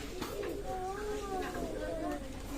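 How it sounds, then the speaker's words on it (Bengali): A Pakistani teddy pigeon coos nearby in a run of soft, warbling, rising and falling calls, heard close and clear over a low background hum. "অসাধারণ টেডি কবুতর"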